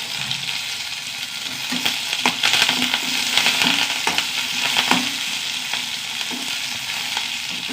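Dried red chillies and curry leaves frying in hot oil, a steady close sizzle with occasional stirring scrapes and brief crackles throughout, no voices.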